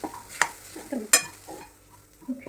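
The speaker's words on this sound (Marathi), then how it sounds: "आपण याच्यामध्ये टाकलेला आहे ओला नारळाचा किस। आपण आपल्याला छान थोडासा याच्यात परतून घ्यायचा आहे 2 मिनिट" Grated fresh coconut is stir-roasted in a pan for modak, with a few scraping clicks of the spoon against the pan and a soft, faint sizzle between them, close by and quiet with no talking.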